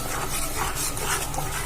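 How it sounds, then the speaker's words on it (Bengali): Masala being stirred and fried in a pan with the water used to rinse the spices, in a Bengali village kitchen making malai matar paneer; a steady, close scraping and sizzling texture runs continuously without any voices. "জলটা দিয়ে আবারও ভালো করে মশলাটা কষিয়ে নেব।"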